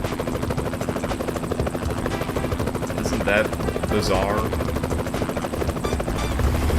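Helicopter rotor drone in the truck-driving game American Truck Simulator, a steady loud whirring wash throughout, with a voice talking over it.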